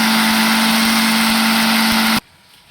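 A mixer grinder whirs loudly as it dry-grinds moong dal without water, a steady high-pitched motor drone with a constant hum that cuts off abruptly near the end, leaving a quiet hiss.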